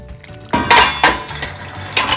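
A lid clinks onto a pot of braised duck legs simmering on a stovetop, a few sharp metallic clatters and taps close up, with faint bubbling beneath.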